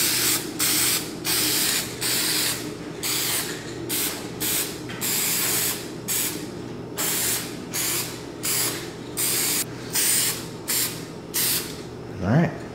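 Bursts of hissing spray as a light coat of lacquer goes onto wood, each pass lasting about a second with short pauses between them, close and steady, with someone speaking.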